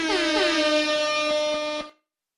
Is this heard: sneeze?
no